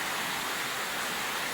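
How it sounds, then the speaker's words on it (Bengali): Heavy, continuous rain pouring down on a flooding Dhaka city street, a dense, steady roar of hiss that stays loud and unbroken throughout, with no talking. "একটানা বৃষ্টি পড়তেছে"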